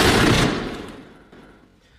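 A single loud rifle shot from a film bursts out and its echo decays over about a second.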